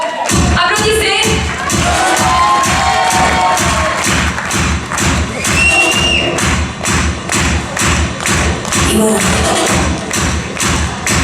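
An audience claps steadily and loudly for a beauty pageant contestant at the Miss Soignies Haute-Senne event, a dense sustained ovation with rhythmic thumping beats and faint crowd voices throughout.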